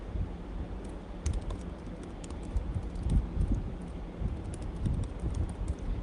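A computer keyboard clatters as a website address is typed, a steady run of close, quick keystrokes.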